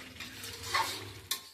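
Meat fries with spices in a pan, a quiet hiss under light scraping strokes of a spoon, with a sharp clink of metal near the end.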